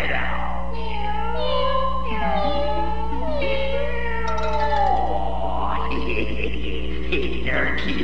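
Cartoon kittens meow over and over in high, sliding cries, several overlapping in a fairly loud, continuous run over a steady low hum.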